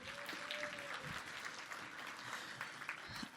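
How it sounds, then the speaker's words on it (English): Morning audience at a chamber of commerce business event applauding, a dense, even wash of clapping held at steady level throughout, somewhat distant, with faint voices mixed underneath. "Can we give Greg another round of applause"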